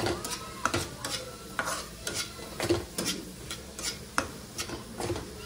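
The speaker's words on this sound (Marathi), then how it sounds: "आता आपण याच्यात टाकलेलं आहे मीठ. परतून घेऊ." Salt being sautéed in a pan, with a rhythmic series of spatula scrapes and taps against the metal, roughly one to two per second, over a faint background sizzle.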